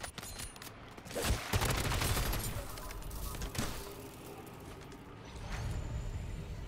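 Rapid automatic weapon fire from MW3 Zombies: dense, sustained bursts with sharp onsets, loud and continuous across the stretch with brief swells, no voice over it.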